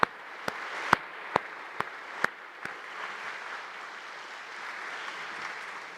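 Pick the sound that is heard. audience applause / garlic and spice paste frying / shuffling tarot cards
audience applause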